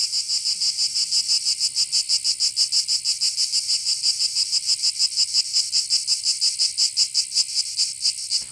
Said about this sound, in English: That's the real sound of cicadas.